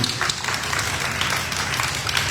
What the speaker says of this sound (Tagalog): salamat po sa inyong mga palakpak